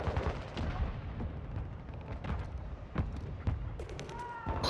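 Rapid gunfire bursts and sharp shots from a Call of Duty match crackle repeatedly through the clip, dense and loud, with a brief high whine near the end.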